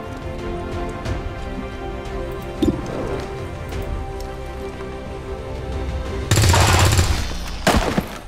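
Gunfire from a flanking shot in the XCOM 2 video game, a sustained loud burst of rapid shots followed by a brief second crack near the end, over a steady rain-like ambient background.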